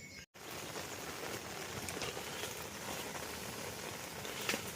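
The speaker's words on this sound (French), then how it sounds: "Il se met à pleuvoir." Rain falling steadily at a carp fishing session, a dense even hiss of drops with a brief dropout near the start and a sharper patter toward the end.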